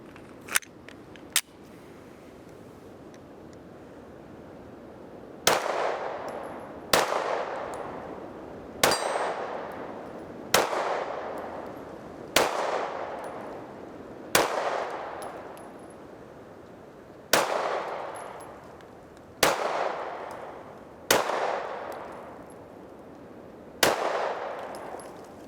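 Eleven sharp gunshots from a Mossberg MC2C 9mm pistol firing 115 grain factory reloaded ammunition, two quick shots followed by nine evenly paced shots, each loud and ringing with a decaying tail, with no talking.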